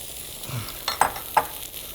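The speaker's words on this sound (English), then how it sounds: "Can you put over here the onions to fry?" Sliced onion half-rings hiss and sizzle softly in a pan, with a few brief clacks of a utensil moving them about.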